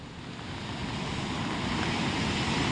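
A continuous wash of surf rolling onto the shore, steady and fairly loud, with a windy rush and no voices.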